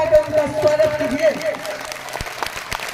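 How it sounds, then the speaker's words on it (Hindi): An audience at a Teachers' Day school program claps in welcome; a sustained tone and voices sit over the start, then scattered claps continue at moderate loudness. "थोड़ा जोरदार ताली बजाकर उनका स्वागत कीजिए।"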